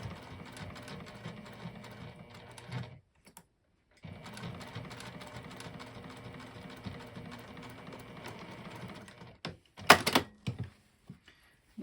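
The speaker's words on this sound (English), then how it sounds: "Then we're going to sew across with a 1/4 inch seam allowance." A sewing machine runs a quarter-inch seam across the binding of a boxy tool pouch in two steady, close bursts separated by a short pause, followed by a few sharp clicks and thunks.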